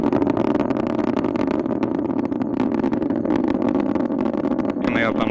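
Delta IV Heavy rocket engines roaring during ascent as the vehicle goes supersonic, a steady dense rumble lasting throughout with a voice talking over it.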